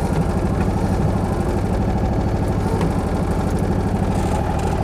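Small single-cylinder engine of a Trojan 200 (Heinkel Kabine) bubblecar running in first gear, a loud steady putter heard from inside the cabin with no talk over it.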